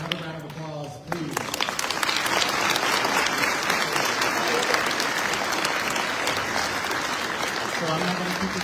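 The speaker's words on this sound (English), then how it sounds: "Another round of applause, please." An audience at a peace talk in a church breaks into sustained, dense clapping that swells quickly and holds steady for several seconds, framed by brief speech at the start and end.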